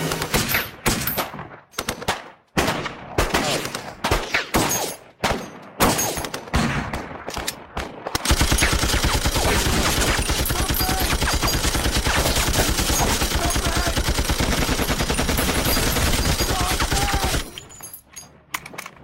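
Gunfire from a film scene: scattered single shots and short bursts, then a long continuous machine-gun barrage that runs loud for about nine seconds before cutting off.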